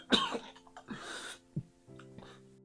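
A person gives a few quiet coughs and clears their throat nearby, soft and short, spread over a couple of seconds with a low hum underneath.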